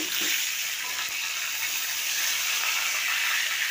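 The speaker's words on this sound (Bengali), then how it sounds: "মাছগুলো আমি ভেজে তুলে নিয়েছি আবার মাথাগুলো ভেজে নিচ্ছি" Rui fish heads frying in hot oil make a steady, dense sizzling hiss that runs unbroken and fairly loud from start to finish, with no talking.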